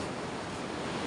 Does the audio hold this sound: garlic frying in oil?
no